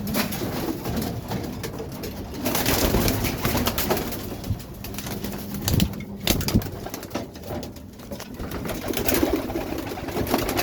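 Male racing pigeons coo repeatedly while feeding in a loft, soft throaty calls recurring close by over shuffling and pecking, with occasional wing flutters and no talk.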